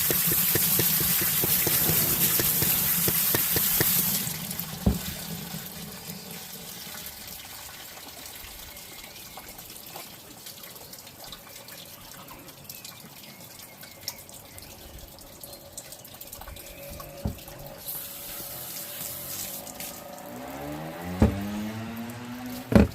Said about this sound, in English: So I'm just going to give it another rinse and give the stones another quick rinse.